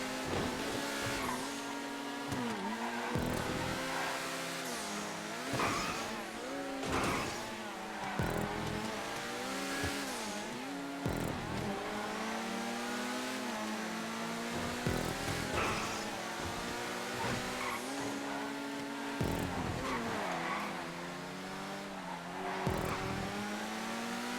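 Cars racing in Grand Theft Auto V: loud, steady engine whine climbing and dropping through repeated gear shifts, with tire squeals and skids over a continuous race soundtrack.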